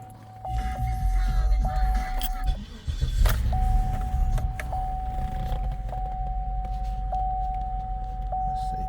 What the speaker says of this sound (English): Let's crank it up here.